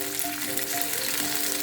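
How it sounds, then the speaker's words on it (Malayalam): Okra and small shallots fry in coconut oil in a pan, a close, steady, even sizzle with faint tones humming in the background. "ഇനി അതേ പാനിലേക്ക് കുറച്ച് വെളിച്ചെണ്ണ ഒഴിച്ചിട്ട് വെണ്ടയ്ക്കയും ചെറിയ ഉള്ളിയും കൂടി ഒന്ന് വഴറ്റിയെടുക്കണം"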